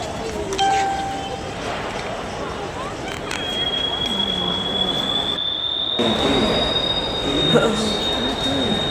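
A train passes near a railway station in Delhi: rolling wheels and rail rumble with a long, high-pitched wheel squeal that rises and holds for several seconds, close and fairly loud.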